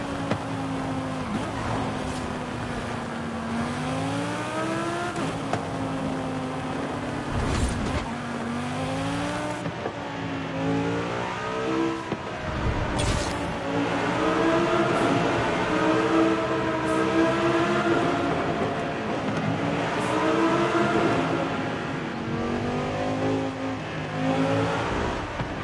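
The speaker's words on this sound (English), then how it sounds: "I think the Porsche sounds better, though." A Porsche engine in the Forza Horizon 5 racing game revs and shifts repeatedly, its loud tone climbing through the gears and dropping at each change, the pitch rising and falling over a long continuous run with no talking.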